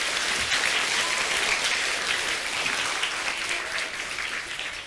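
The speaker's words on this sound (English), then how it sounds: "Give him a round of applause, guys." An audience gives a sustained round of applause, loud and continuous crowd clapping that tapers slightly toward the end.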